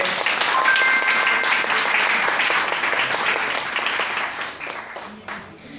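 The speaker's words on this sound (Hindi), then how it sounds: "तो यदि आप सबको इसको पसंद आया हो तो एक जोरदार तालियों से" An audience at a Sanskrit prayer talk breaks into vigorous applause, a dense wash of clapping that holds strong for several seconds and then thins out and fades toward the end.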